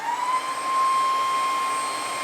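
A vacuum cleaner runs on its second speed setting at a steady, loud, high-pitched whine with a strong tonal hum, continuous and unaccompanied throughout.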